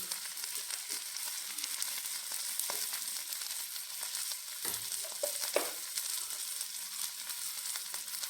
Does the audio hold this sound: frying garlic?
yes